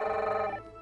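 A telephone rings out when a call is placed to a pension villa, a short bright electronic tone that holds steady and then fades within a second.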